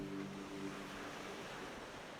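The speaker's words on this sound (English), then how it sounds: "Gentle waves lap against the shore, creating a peaceful yet vibrant scene." Gentle Caribbean waves lap against a powdery white sand shore, a soft steady wash of surf that stays even and fairly faint throughout, with no voices.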